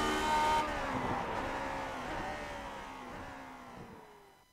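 A racing car engine at full throttle at Interlagos in iRacing's Grand Prix Legends, a loud steady whine with harmonics that slowly slide down in pitch before fading at the end.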